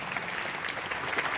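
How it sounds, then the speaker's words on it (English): A tech conference audience gives brief, steady clapping, a dense patter of many hands at moderate loudness with no pauses. "You can clap if you want."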